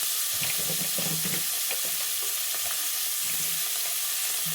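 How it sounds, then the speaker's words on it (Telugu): Spice tempering sizzles and crackles steadily in a hot pan, with a few sharp pops and light clinks of stirring. "అందుకే తాలింపు మాత్రమే వేసుకుంటాం"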